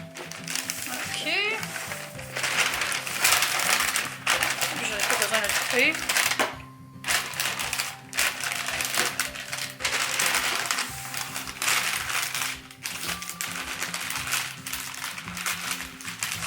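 Wrapping paper for a pile of gift boxes crinkles and rustles in repeated bursts of handling and folding, close and fairly loud, with a few brief gaps throughout.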